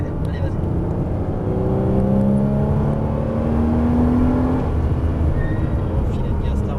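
A Porsche Cayman S accelerates on a race circuit, engine tone climbing steadily in pitch as it pulls through the gear, a close, continuous rising drone with a coach's voice speaking over it.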